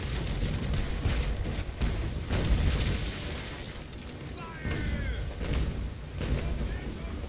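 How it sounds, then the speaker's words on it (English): Cannon broadside fire in the Naval Action naval battle game, muffled booms and rumbling impacts rolling under continuous noise, with several distinct bursts spread across the clip. "A couple of shots landing there, but I'm still waiting for my main cannons to reload"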